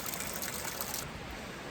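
Hot water runs from a tap in basic riverside lodging, a continuous close-up splashing trickle that holds at an even level for the whole moment, with no one speaking.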